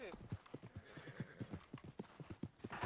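Horse hooves clip-clop in a steady, rapid rhythm in the Western video game Red Dead Redemption, played online, with a whinny near the start and voices faintly underneath.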